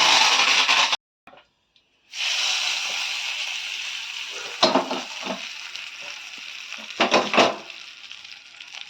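Curry leaves hit hot oil for a tomato-onion chutney, with a loud sizzling hiss that cuts out briefly, returns steadily, then crackles and spatters in sharp bursts.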